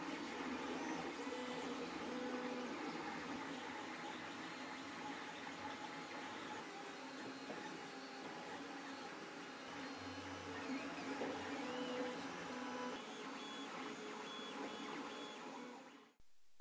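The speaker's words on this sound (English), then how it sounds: "So let's get the core parts of the design printed and I'll explain the concept." A 3D printer runs steadily while printing robot parts, its stepper motors whirring with shifting tones and rhythmic movement, loud and close throughout with no talking.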